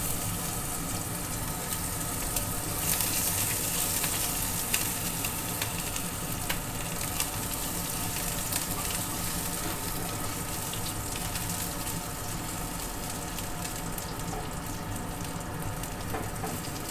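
Chopped ginger and garlic frying in oil for an egg tadka, with a steady, close hiss and sizzle that stays even throughout, with faint stirring clicks.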